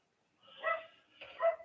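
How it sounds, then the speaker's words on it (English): A small terrier barking outdoors, two short yappy barks at moderate distance, quiet background between them. "My little terrier's out there barking away."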